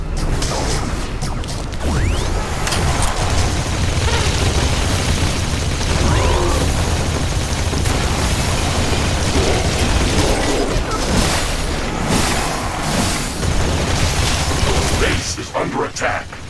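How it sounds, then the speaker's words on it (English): A building is destroyed in the sci-fi base-building game The Riftbreaker: a loud, sustained roar of blasts and crashing debris with whooshing layers that fills the whole stretch before tailing off. "A building has been destroyed."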